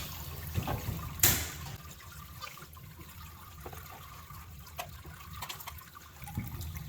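Water runs gently over a miller table while gold concentrate is cleaned, a soft continuous trickle and wash heard close by and fairly quiet, with a brief splash near the start and no talk.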